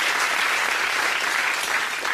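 Loud, dense applause from a television studio audience, a sustained even roar of many hands clapping close by, with no talk over it.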